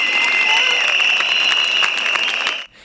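A crowd of about 5000 Samsunspor football fans protests on İstiklal Avenue, a loud, dense, continuous roar with rhythmic pulses that cuts off abruptly near the end.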